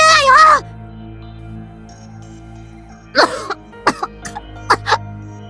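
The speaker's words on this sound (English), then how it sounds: "They're deep, hacking coughs that sound like they're echoing from the depths of hell." A character in the visual novel game Hotaru breaks into deep, hacking coughs after a short voiced outburst, with one loud coughing burst followed by several shorter, sharper coughs in sequence.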